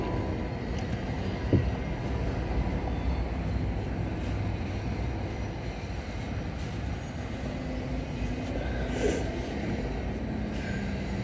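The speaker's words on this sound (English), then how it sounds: "Oh, that's a big train." A heavy train rumbles past at Belleville, a dense low roar with clattering wagons that stays loud for the whole stretch, no voices.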